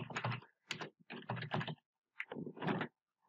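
Quick bursts of keystrokes on a computer keyboard while writing code in the NetBeans IDE, clustered clicks separated by brief pauses, close and clear with no talking.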